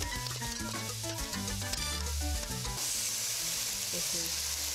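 A rice mixture with garlic, oregano and cilantro sizzling loudly in a pan as it is stirred and moved around, steady frying hiss with scraping clatter throughout.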